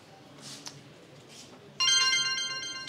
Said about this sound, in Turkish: telefonu bir 20 kez falan çaldı